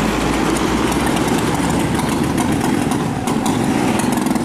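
Vespa scooter engine running loud and steady throughout, a continuous close-up putter with a low rumbling drone and no talk.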